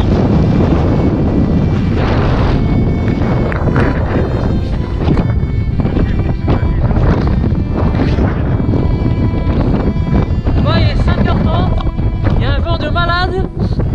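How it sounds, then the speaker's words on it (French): Loud, roaring gusts of wind over 100 km/h in Iceland buffet the microphone continuously, with a voice speaking intermittently underneath and flapping tent fabric near the end. "je pense qu'il y a des vents de plus de 100 km/h"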